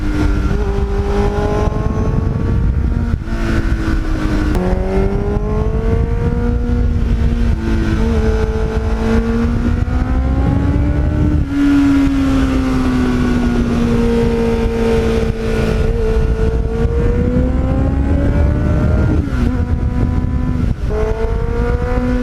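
A 1989 Kawasaki GPX750R sport bike fitted with a Muzzy aftermarket muffler, engine note rising and falling steadily through repeated revs and gear changes, loud and close with no talking.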